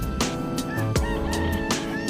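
A rooster crows loudly and close by, one drawn-out call with clucking fowl around it.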